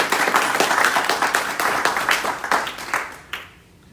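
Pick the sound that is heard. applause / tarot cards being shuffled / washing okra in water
applause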